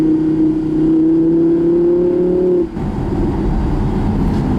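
Audi R8 V10, a 5.2-litre 540 PS sports car with a 7-speed S-tronic gearbox, revs up loudly with a rising engine note, then the note cuts to a rougher, lower roar as it shifts and keeps pulling.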